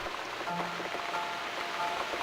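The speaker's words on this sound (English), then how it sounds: "Looks like we got the rain back." Rain in the video game The Cat Lady, a soft continuous patter of rainfall at low volume, with faint tonal game sounds underneath.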